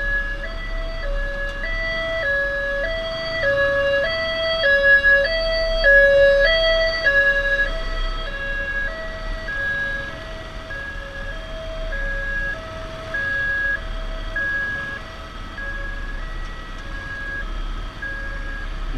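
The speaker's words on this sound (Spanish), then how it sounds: "Ah, no, de una ambulancia, ambulancia" An ambulance's two-tone siren alternates steadily between high and low pitches, loud and continuous over low rumbling traffic noise on General Paz, with no voices.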